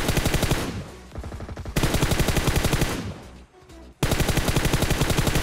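Automatic gunfire in PUBG Mobile: loud, rapid bursts of shots with a brief lull around the middle before sustained firing resumes, no talking.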